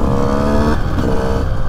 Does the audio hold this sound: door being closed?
no